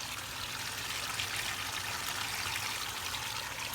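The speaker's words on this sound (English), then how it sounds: "the idea was just to make it sound like I had running water" Water trickles and splashes steadily from a small backyard water feature made to sound like a bubbling spring, a soft continuous flow with no voices.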